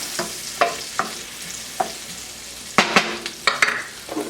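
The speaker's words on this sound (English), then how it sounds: "Now I'm going to go ahead and add our onions to this and our jalapenos. We're just going to saute these until they get soft." Onions and jalapenos sauteing in butter in a pan, with a steady soft sizzle broken by repeated scraping stirs and clacks of a utensil, close and clear with no talking.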